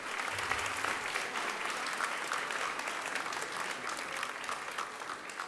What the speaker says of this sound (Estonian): Kas saaks ühe aplausi veel?